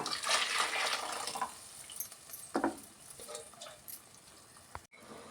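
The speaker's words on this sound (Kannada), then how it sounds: "ಕಾಳು ಬೇಯಿಸಿಟ್ಕೊಂಡಿದ್ವಲ್ಲ ನೀರು, ಆ ನೀರನ್ನ ಸೇರಿಸ್ತಾ ಇದ್ದೀನಿ" Cooking water from boiled field beans is poured into a curry in the pot, giving splashy, sizzling bursts that fade to quieter stirring sounds, with a few sharp knocks.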